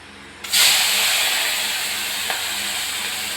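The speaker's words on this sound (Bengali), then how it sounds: "এইদিকে কিছুটা চিংড়ি মাছ ভাজা হোক" Prawns dropped into smoking-hot oil in a wok set off a sudden loud hiss that holds steady as a dense, close sizzle, easing only slightly over the following seconds.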